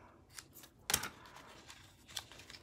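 Scissors snipping off excess ribbon after tying a flat bow for a stamped card, heard as one sharp, close cut with a few faint rustles of paper and ribbon around it.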